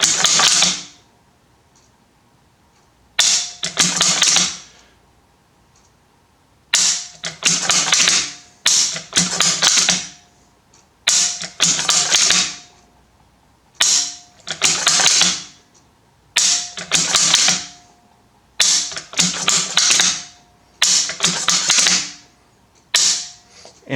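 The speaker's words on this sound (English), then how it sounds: "you're going to run that bolt, and it's going to instantly" A rifle bolt is cycled repeatedly during dry-fire practice, heard up close and loud. It gives bursts of crisp metallic clacks and slides, roughly ten cycles separated by short silent pauses, with no talking.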